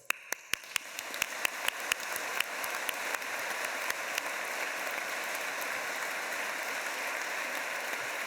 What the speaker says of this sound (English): Go ahead and give yourselves the biggest round of applause.